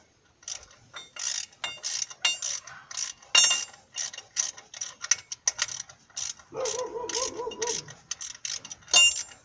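A ratchet wrench clicks in quick, uneven bursts while loosening a bolt on the 7.5L engine of a 1991 Ford F250, close and crisp, with a short strained vocal sound partway through.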